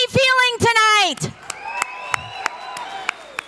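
Auction-night audience at a children's heart charity gala answers the auctioneer with a loud burst of cheering and whooping voices, then fades into scattered claps and chatter.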